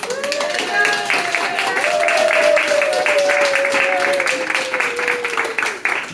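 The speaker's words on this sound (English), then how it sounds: "I think that we should give a round of applause for everything they do for us here" Audience applause at a stand-up comedy show, a dense, steady wash of clapping that swells and holds for several seconds, with the comedian's voice carrying over it.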